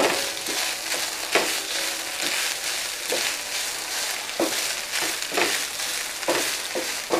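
Ground beef and onions browning in a pan hiss with a steady sizzle, broken by periodic scraping strokes as the mixture is stirred, loud and close with no talk.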